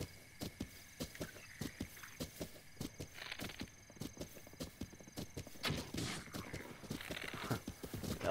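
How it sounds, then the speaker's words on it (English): Horse hooves clip-clop steadily in the game Breath of the Wild, a quick regular rhythm of close, crisp hoofbeats with some brief brighter bursts of game sound mixed in, no talking. "Okay, I now have a horse."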